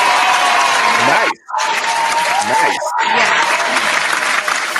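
A live audience gives a sustained round of applause after a performer's self-written track on a DJ mixshow, broken by two brief dropouts, while voices speak over it.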